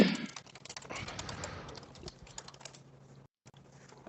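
Someone types on a computer keyboard in a rapid, uneven patter of light clicks, fairly close, with a faint hum underneath and a brief silent gap near the end.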